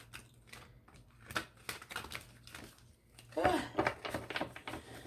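Tarot cards shuffled close by in quick papery riffles and soft taps, fairly quiet, with a denser flurry of shuffling partway through.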